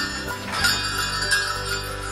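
Christmas Eve bell ringing with a variety of bells, a sustained metallic ringing with layered tones and soft strikes, moderately loud and continuous with no speech.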